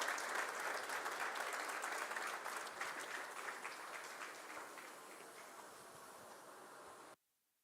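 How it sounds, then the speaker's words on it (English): Audience applause at an African business forum fills the room steadily for about seven seconds, gradually thinning and softening before stopping abruptly. "A round of applause till he gets to the podium"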